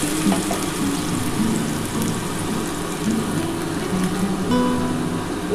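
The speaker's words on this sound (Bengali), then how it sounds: "এবার জল দিয়ে দিলাম।" Water poured into a frying cauliflower and potato curry with tomato and green chilli, giving a steady, fairly loud hiss and sizzle that stays even throughout with no talking.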